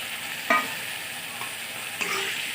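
Paneer pieces and onions fry in a pan with a steady sizzle, broken by a couple of sharper stirring scrapes near the start and toward the end; close and moderately loud, no talk.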